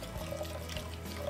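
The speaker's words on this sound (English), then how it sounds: "Now let's add our beef broth." Beef broth pours into a hot pan of browned short ribs, a steady liquid splash and trickle heard close and continuous for a brief moment.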